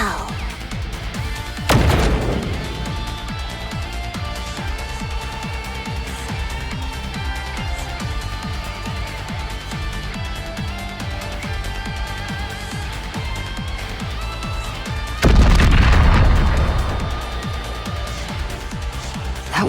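Two heavy blasts from an anti-matter bomb in the Old Tales video game, one early and one late, each a sharp booming burst that rings out over a steady musical backdrop.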